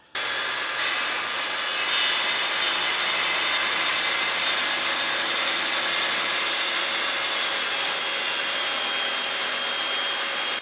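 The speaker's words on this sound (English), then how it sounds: "the first cut that I'm showing you is a full depth pass using the standard crosscut blade" A track saw with a standard crosscut blade makes a full-depth crosscut through wood, a loud continuous broadband whir and rasp that holds evenly for about ten seconds with no talking.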